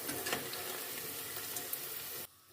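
Onions fry in cooking oil in a pan for a dum chicken biryani, a steady close hiss with faint crackles that cuts off abruptly near the end.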